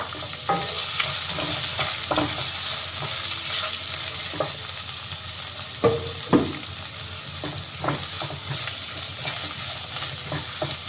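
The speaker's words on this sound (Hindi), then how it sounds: "अब इसमें हम ऑनियन डाल देंगे और हरी मिर्च भी डाल देंगे।" Onion and green chilli frying in hot oil with fenugreek and cumin for Punjabi kadhi, making a continuous close sizzle with repeated spoon scrapes and clinks against the pan throughout, no talking.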